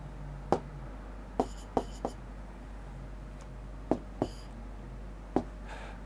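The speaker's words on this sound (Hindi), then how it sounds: "तो यहां लिखते हैं" A pen writes on a board or paper during a Class 12 maths lesson on probability, making sparse, sharp taps and short scratchy strokes over a steady low hum with no talk.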